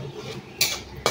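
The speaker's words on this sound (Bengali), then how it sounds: "এখানে পানিটা দিয়ে মশলাটা ভালো করে নাড়াচাড়া করে নেব" Spoon scraping and clinking in a pan as spice paste and a little water are stirred, a couple of sharp metallic knocks over faint background noise.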